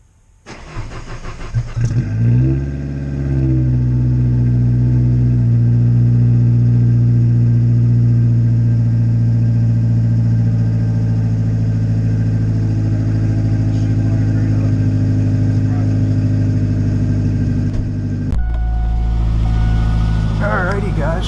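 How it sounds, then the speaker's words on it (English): A Ford Focus that has sat unused for over a week cranks briefly, catches and settles into a steady, loud idle that drones on evenly before cutting off near the end. "let's do a cold start, even if the car will start, because it's been sitting for over a week"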